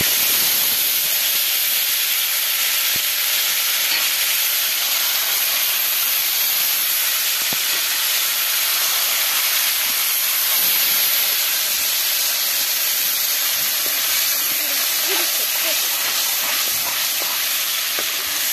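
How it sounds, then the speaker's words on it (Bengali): Whole cumin seeds sizzling in hot oil, a loud continuous hiss that holds steady with small crackles, with no voices over it. "গোটা জিরে দিয়ে দিলাম"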